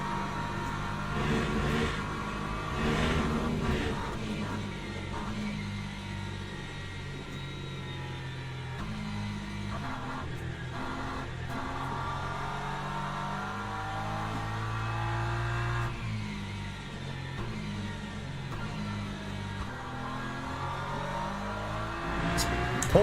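Race car engine in the Le Mans Ultimate racing game at Paul Ricard, droning steadily with shifting revs and gear changes as the car slows into the pits, loud and continuous with no talk.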